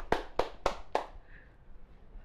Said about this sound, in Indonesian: Tepuk tangan untuk Bang Ahmad Subi.